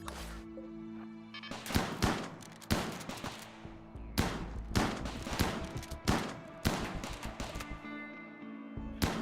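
Turret gunfire in a space colony game rattles in repeated bursts, each volley a cluster of sharp shots and thuds separated by brief pauses, moderately loud with no talk.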